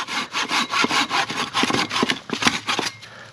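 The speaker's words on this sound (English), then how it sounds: "It just saws right through it like it's nothing." A Silky hand saw cuts through a green, freshly cut tree branch during trail clearing, making close, rapid back-and-forth rasping strokes, about a dozen in quick rhythm.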